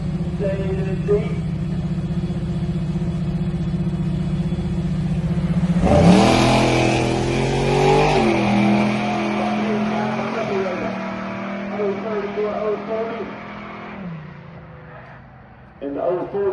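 Drag race cars launching and accelerating hard, one an Oldsmobile, a loud roaring engine surge that climbs and holds at high revs, with a commentator talking throughout.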